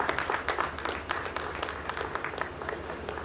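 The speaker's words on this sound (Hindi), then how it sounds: "जोरदार तालियों से इस्तकबाल करें।" An audience at a music video launch event bursts into brief, moderately loud applause, a dense patter of many hands clapping at once to welcome a guest to the stage.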